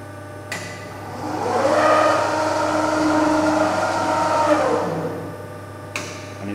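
A Morgan Rushworth guillotine's motor starts up, spinning up to a steady whirring hum for a few seconds before winding down, with a constant low electrical hum underneath.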